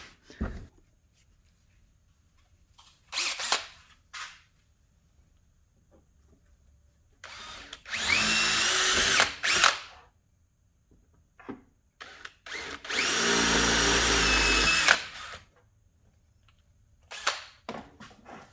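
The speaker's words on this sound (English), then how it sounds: "That's how you drill off a VIN tag" A power drill whines in several bursts, two long sustained runs grinding off an aluminum VIN tag on a Nissan 240SX dash, with short clicks and handling noises between them.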